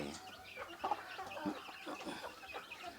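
Chickens cluck repeatedly in short, uneven bursts, several birds close by against a low background rumble.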